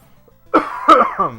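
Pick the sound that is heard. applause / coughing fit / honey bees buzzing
coughing fit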